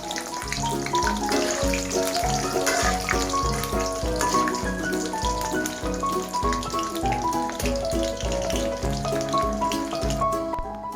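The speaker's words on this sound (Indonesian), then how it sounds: "Next, goreng pete." Continuous loud sizzling and crackling of petai beans frying in hot oil, steady throughout with a rhythmic background thump.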